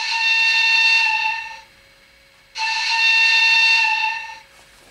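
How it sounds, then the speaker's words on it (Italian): A model train locomotive's sound module gives two short steam whistle blasts, each bright and loud with a hissy edge and lasting about a second and a half, separated by a brief quiet gap. "Poi, con F9 il fischio corto."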